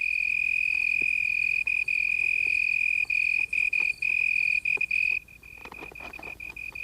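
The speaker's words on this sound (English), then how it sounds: "The leaf is the cricket's soundboard, and the sound produced is magnified in intensity as much as 3 times." An African cricket calls from a leaf that acts as a baffle, producing a loud, continuous, piercing trill close by with brief gaps, then fading to quieter night ambience.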